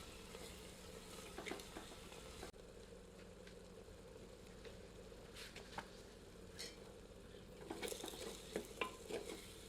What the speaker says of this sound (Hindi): फ्लेम को मीडियम पर रखते हैं और प्याज को तब तक फ्राई करते हैं जब तक कि प्याज गोल्डन